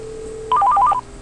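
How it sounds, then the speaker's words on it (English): A quick run of telephone keypad tones dials out on an Asterisk FreePBX line under CentOS 5. About half a second of rapid tones plays over a low steady line hum, with no voices. "I can call my one of my other lines, 102, and dial. You hear it's ringing"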